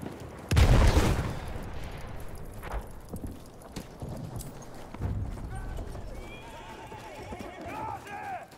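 Horse in the Battlefield 1 game on the Tsaritsyn map: a loud burst of hoofbeats and galloping, then a whinny and rapid clip-clop near the end, with distant gunfire and voices talking over the game.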